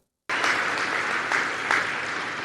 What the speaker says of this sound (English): And yes, the audience is clapping.